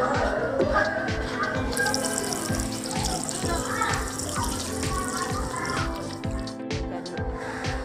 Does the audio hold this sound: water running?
yes